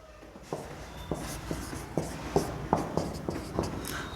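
Pen or chalk writing out a maths question during a number-system lesson, about eight short regular strokes and taps at steady rhythm, close and moderately quiet with no talk.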